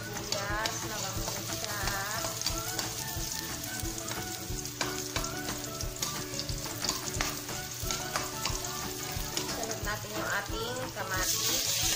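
Garlic and onion sautéing in a pan for ginisang alukbati, a loud, steady sizzle with stirring scrapes throughout, close and constant.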